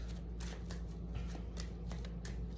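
Tarot cards being shuffled by hand: a steady run of quick, papery riffling bursts that repeat at a brisk, slightly uneven rhythm, close and moderately loud with no talking.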